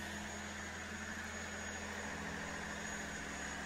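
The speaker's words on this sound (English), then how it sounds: "There's our John Deere main engine" A John Deere main engine runs steadily in the engine room of a Nordhavn 68 motor yacht, a constant close, low diesel drone with a fixed mechanical whine layered over it, unbroken and without voices.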